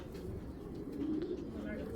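A male pigeon coos softly and close by, a low rolling call beneath a voice.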